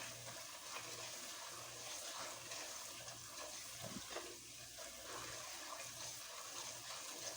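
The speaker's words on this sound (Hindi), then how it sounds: "तो पानी डाल देती हूँ।" Water is poured into a cooking pot for spicy beef nihari, a faint continuous splashing and rushing that stays steady throughout, heard alone at low level.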